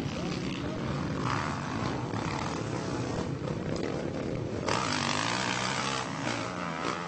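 Kawasaki motocross bikes race at a Mini O's Masters 60+ event, their engines making a loud, dense, buzzing roar that swells and fades as riders battle close by, with commentary mixed in.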